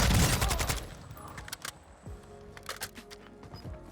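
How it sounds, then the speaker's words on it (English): Sniper rifle shots ring out in a Warzone 2 match, a loud burst of cracks at the start followed by a few sharper isolated reports over quieter game ambience. "From the sounds of it, a sniper rifle."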